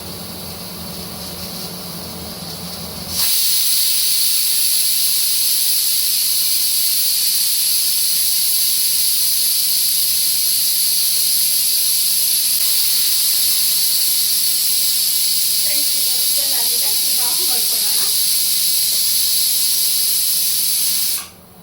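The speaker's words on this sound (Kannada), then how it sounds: "ವಿಸಲ್ ಬರ್ತಾ ಇದೆ. 1 ವಿಸಲ್, 3 ವಿಸಲ್ ಆಗಲಿ." A loud, steady, high-pitched whistle of steam escaping a pressure cooker cooking chickpeas, starting abruptly and holding for about eighteen seconds before cutting off, over faint kitchen clatter.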